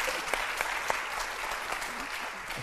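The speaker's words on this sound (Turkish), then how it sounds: "Bir moral alkış alabilir miyim?" A comedy stand-up audience claps in a sustained, even burst of applause, moderately loud, with a few louder individual claps standing out near the front.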